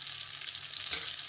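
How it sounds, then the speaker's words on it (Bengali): Cumin seeds fry in hot mustard oil, making a brief, even, close sizzle with a soft stir partway through. "তেলের ওপরে একটু জিরে ফোড়ন দিয়ে দিলাম"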